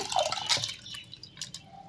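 Water is poured into a cooking pot, a brief close splash and trickle with a few drips trailing off.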